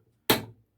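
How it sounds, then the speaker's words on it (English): A single sharp metallic knock on a homemade motorcycle brake caliper piston puller tool, close and brief with a quick decay, alone in a quiet workshop. "Give that a little knock."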